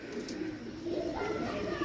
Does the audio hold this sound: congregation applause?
no